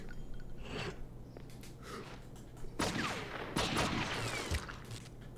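Pistol shots ring out at a police shooting range in True Crime: New York City, a handful of sharp reports clustered in the second half over a steady low game hum, with no talk.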